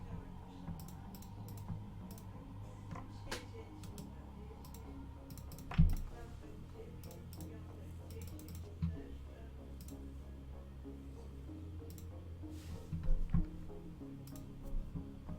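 Computer keyboard typing, scattered soft keystrokes and clicks arriving in irregular bursts with occasional louder taps, faint and close over a low steady background hum.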